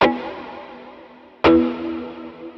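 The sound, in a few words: ambient reverb guitar pedal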